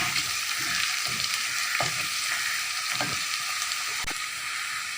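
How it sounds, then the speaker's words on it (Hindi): Garlic added to onions frying in oil over a medium flame for a mash daal tadka, a steady close sizzle with occasional stirring scrapes throughout, no talking. "लहसुन को हमने इसमें फ्राई करना है।"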